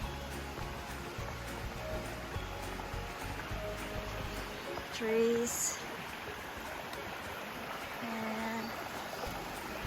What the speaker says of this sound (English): the sound of the water is very soothing